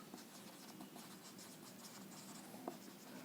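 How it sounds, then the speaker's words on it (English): Pen writing on a board, soft faint scratching strokes in quick bursts with a small tap near the end, no talking. "I'll just write it over here."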